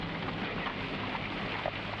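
Heavy rain falls on a dark night in a steady, even hiss that fills the whole moment without a break.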